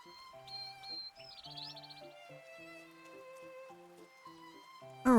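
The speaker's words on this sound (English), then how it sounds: "After a short while, a wet grey bird suddenly darts under our umbrella." A wet grey bird chirps in short, bright bursts under an umbrella in the game Love & DeepSpace, set on Shipping Island, heard over steady tonal background music.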